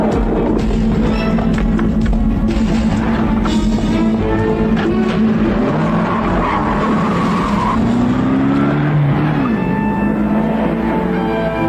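A car in a Filipino action movie revs hard and pulls away with tire squeals and a rising engine roar, loud and close, amid a busy action soundtrack for about twelve seconds.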